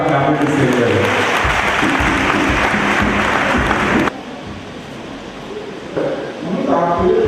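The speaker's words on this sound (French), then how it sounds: "On peut acclamer le Seigneur." A church congregation at a Sunday service bursts into loud sustained applause with cheering, then it cuts to quieter room sound and voices.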